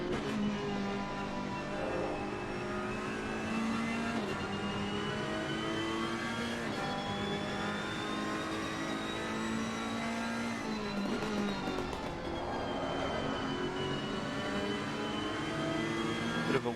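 Nissan, Lexus and Ferrari race car engines roar continuously at a sim racing endurance event at Zolder, with steady high-pitched whine and shifting revs throughout, loud and dense with overlapping cars and no talk.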